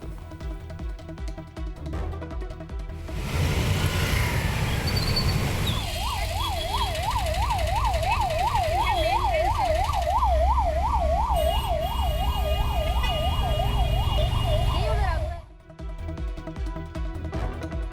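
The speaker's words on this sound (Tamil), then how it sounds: "ஆம்புலன்ஸ் நெரிசலில் சிக்கியதால் பரபரப்பு நிலவியது" An ambulance siren wails in a fast rising-and-falling pattern as it sits stuck in a traffic jam, over loud traffic rumble and engine noise, fairly close and sustained.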